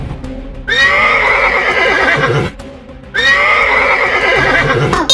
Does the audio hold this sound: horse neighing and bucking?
yes